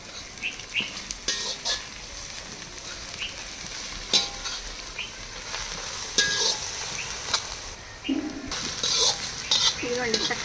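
Coriander chutney frying in oil while being stirred, a steady sizzle with repeated scraping and clinks of a spoon against the pan, close and fairly loud, no talking.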